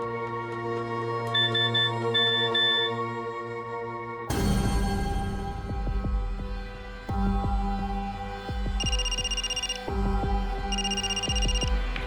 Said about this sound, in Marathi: राशी, कुणाचा फोन आहे?